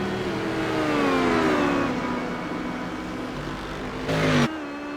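Race cars in a sim racing Proto-GT event at Interlagos, a loud whining engine pulling hard with a slowly falling pitch, then a brief burst of roar near the end.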